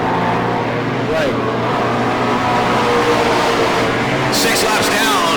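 Open Competition stock cars race around a track in Bakersfield, California, their engines roaring loud and constant, with one car briefly whining higher as it passes, all beneath a commentator's continuous voice.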